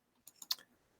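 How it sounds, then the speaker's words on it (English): A computer mouse clicks a few times in quick succession while selecting cells in Excel, making soft, close, isolated clicks in a quiet room. "You normally click and drag like that."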